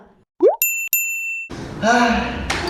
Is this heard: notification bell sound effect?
yes